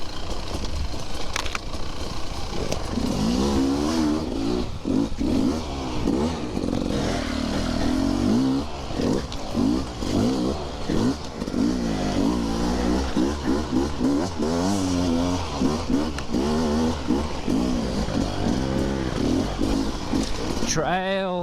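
A carburetted KTM enduro motorcycle engine revs and burbles continuously while riding a dry trail, loud and close with rising and falling throttle, clatter and scraping mixed in, and a rider talking over it.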